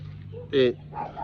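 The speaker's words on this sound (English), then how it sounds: "sorry, my dog distracted me." A dog gives a single short bark close by, with a faint whine or yip after it, during a quiet indoor conversation over a steady low hum.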